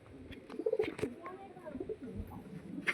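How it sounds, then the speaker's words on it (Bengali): Soft pigeon coos rise and fall close by, with a few wing flutters and clicks among them. "তা আমি এখন কবুতরগুলোকে ছেড়েই দেবো, কবুতরদের খাবার দেওয়ার টাইম হয়ে এসছে"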